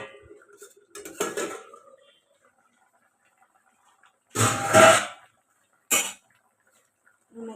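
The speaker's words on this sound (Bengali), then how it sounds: "এবার বন্ধুরা দেখতে পাচ্ছ ঢাকনাটা আমি খুলবো" A metal pot lid on a pot of fish curry clanks a few times: a light rattle, then a louder ringing clatter, then one short knock, separated by quiet stretches.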